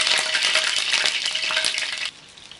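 Salmon cooking on a grill pan, a loud, close crackling sizzle that cuts off sharply near the end, leaving quiet, with no speech.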